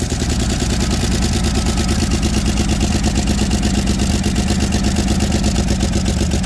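The engine of a junkyard 1961 Chevy Biscayne runs continuously with a loud, even idle, its rapid firing pulses steady throughout with no clear revving.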